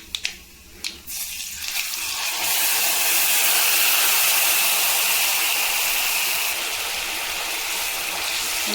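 Tamarind drops into hot sesame oil with popping mustard seeds, setting off a loud, steady sizzling hiss that swells after a few light clinks and holds continuously.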